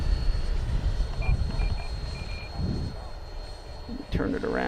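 XFly Sirius 80mm electric ducted-fan RC jet making a slow flyby: a steady, airy rushing whine that rises at the end, heard beneath wind noise and someone talking.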